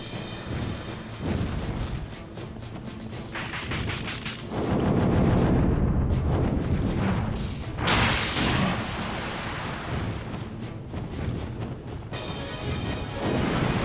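Missiles explode one after another in the PS2 game Drakengard 2. The booming, crashing blasts and rumbling bursts are loud and overlapping, with a sharp bright crack in the middle.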